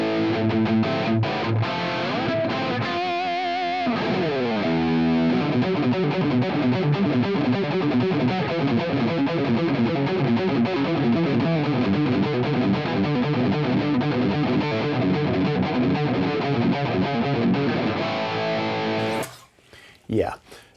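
Electric guitar played through Neural Amp Modeler with a boost pedal, giving a bright, crisp distorted tone; a steady stream of sustained chords and riffs plays loud and alone, stopping abruptly near the end.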